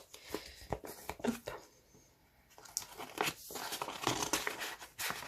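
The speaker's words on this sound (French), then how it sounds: "Je vais voir si ça rentre dans une enveloppe A6." Paper crinkles and rustles as a card slides into an A6 paper envelope, with a few sharp crisp crackles early on followed by a denser run of soft rustling close to the microphone.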